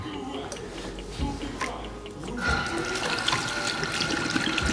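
Tap water running steadily into a salon sink while herbal hair dye is rinsed out of blonde hair, a continuous close splashing hiss that swells louder in the second half.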